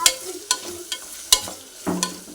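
Cloves and cumin seeds fry in a hot pan, with short sizzling bursts and scraping stir strokes coming in a quick irregular rhythm, close and fairly loud.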